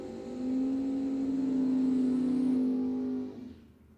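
A Camaro drag racing car launching down the strip, a loud sustained engine drone holding steady for a few seconds before cutting off and fading.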